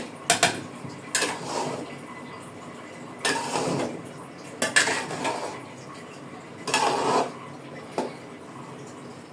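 Morog polao is stirred in a pot with a metal spoon, giving repeated loud clattering scrapes and knocks against the pot in irregular bursts, close by, with a low sizzle between strokes.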